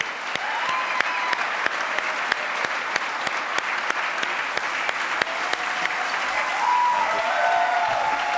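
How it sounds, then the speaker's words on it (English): A party crowd at a 2014 kick-off event applauds community members with steady, fairly loud clapping, sharp individual claps standing out from the wash throughout. "I'd love to have a round of applause for our members from the community"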